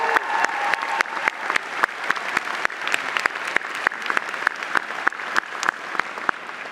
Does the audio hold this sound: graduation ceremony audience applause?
yes